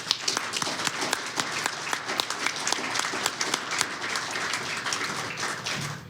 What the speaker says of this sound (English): So I wanted to give them a round of applause.